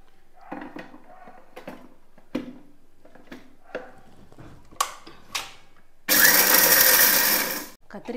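A mixer grinder whirs loudly for about a second and a half, powdering cooled roasted spices for puliyotharai, after scattered kitchen clatter and a woman's speech.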